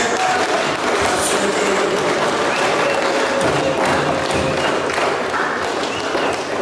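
Members of a provincial assembly in session applaud and cheer loudly in a thick, continuous wash of clapping and crowd noise that holds strong from start to finish.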